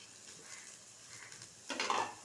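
Onions and green chillies dropped into hot oil, a brief soft stir and scrape giving way to a sudden bright sizzle that swells toward the end, fairly close and moderately loud with no talk.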